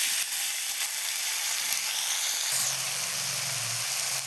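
Tomatoes being stirred in a hot pan for a small-fish sour curry, a constant loud hiss of sizzling with faint scraping, and a low hum joining in the second half.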